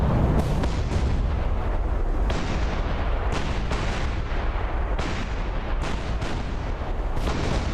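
Heavy enemy gunfire in a Japanese port battle in a video game, a continuous dense barrage of loud booming shots and explosions with sharp bursts recurring every second or so, no talk.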